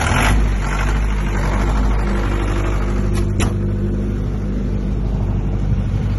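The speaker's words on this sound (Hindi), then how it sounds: "see how to start and operate the generator set" A 40 kVA diesel generator set in a soundproof acoustic enclosure fires up with a brief burst, then settles into a steady, loud, low idling rumble with a few small clicks along the way.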